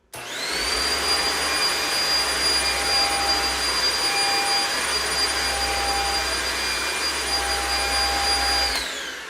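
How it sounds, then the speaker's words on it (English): A Eureka Flash stick vacuum cleaner runs steadily on hardwood with a constant high-pitched motor whine and airflow rush, starting abruptly and cutting off at the end, no talking. "this isn't like the loudest vacuum I've had"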